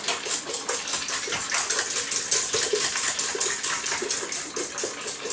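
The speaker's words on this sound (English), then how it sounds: "instead I'm going to beat these eggs instead" Eggs being beaten with a whisk in a bowl for gluten-free blueberry lavender muffins, a fast continuous run of light rhythmic clinking and tapping against the bowl, close and fairly loud with no talk.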